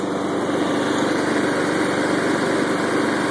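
A new Honda lawn mower engine runs at full throttle, a loud, steady, high-pitched whine and buzz heard up close without pause or speech.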